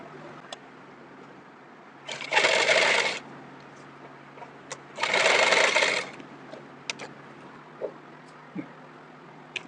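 A sewing machine stitches the sides of an Afghani pant in two short bursts of rapid, buzzing stitching, each a couple of seconds long, separated by quiet handling.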